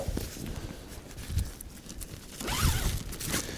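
A zipper on a winter-pitched OneTigris tent fly is pulled in a quick rising zip near the end, after softer rustling and handling of the fabric.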